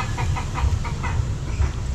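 Farmyard chickens clucking in short, repeated calls over a constant loud background hum, fairly close, with no talking.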